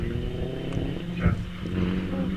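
Vintage GN special racing car with an 1100cc Austin engine at a hillclimb, its steady engine drone holding throughout, with a brief louder rise near the middle.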